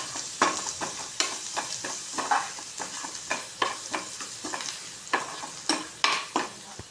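Egg masala gravy is stirred in a hot pan, a steady rhythm of close spoon scrapes and clicks over a soft continuous sizzle, with no voices.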